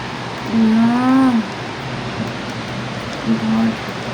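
Heavy, record-breaking rain falls on Dubai at night, a steady wash of hiss under a low droning tone that swells twice.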